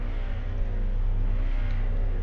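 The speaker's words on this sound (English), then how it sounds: "Someone's revving their engine." A car engine revs loudly and continuously in a racing video game before a race start, a deep droning roar with rising and falling pitch, close and alone.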